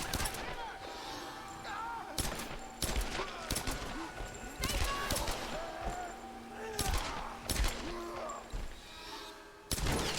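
Gunshots in Tomb Raider: The Last Revelation, loud separate reports every second or so over a busy game soundscape, with talk running underneath.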